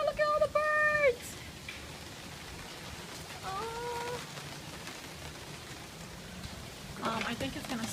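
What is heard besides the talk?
rain falling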